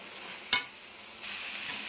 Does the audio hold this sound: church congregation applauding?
no